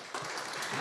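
Audience applause at a conference on circularity in the construction sector, a steady broadband wash of many hands clapping that starts abruptly and carries on evenly for under a second.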